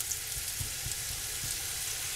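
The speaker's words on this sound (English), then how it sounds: "Now we are going to add our sweet potato. Preferably in the pan." Sweet potato pieces frying in a pan, giving a steady, close broadband sizzle with soft low crackles and pops throughout, no talking.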